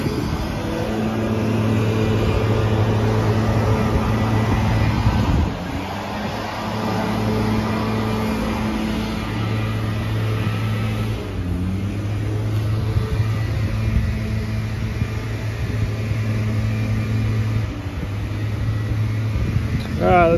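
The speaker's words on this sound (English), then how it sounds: "Don't mind the blower noise." Steady, loud blower noise drones beside a 2011 Ford F-450 diesel truck, with low humming tones throughout and someone talking over it.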